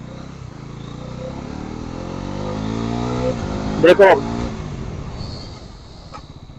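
A Bajaj Pulsar NS400 motorcycle in off-road mode revs steadily and builds, then gives a brief loud burst as the rear lifts into a stoppie, close to the microphone, with someone talking throughout.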